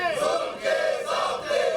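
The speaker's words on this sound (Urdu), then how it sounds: "بل واپس لینے کے اقدام کے خلاف نعرے بازی کی" Protesting journalists chant slogans against the withdrawal of a bill at Pakistan's National Assembly, a crowd of voices shouting in unison in loud, close, rhythmic bursts that repeat about three times with brief dips between.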